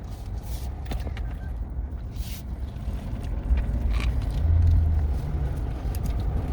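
A Toyota Highlander hybrid rolls along at about 20 km/h, a low, steady road rumble and faint tire noise inside the cabin, swelling slightly midway with a brief low hum, no voices.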